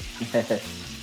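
Bacon and burger with cheese frying in oil on a pan, a brief steady sizzle with a few quick spits and pops, close and without talk.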